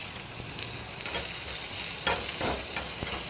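Shallots frying in hot oil with cumin seeds and asafoetida for a cashew nut kulambu, a steady close sizzle with a few stirring scrapes and brief louder crackles toward the end, no voices.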